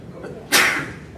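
A single sharp sneeze bursts out indoors at a township board meeting, loud and close, rising suddenly and fading within a fraction of a second over faint room noise.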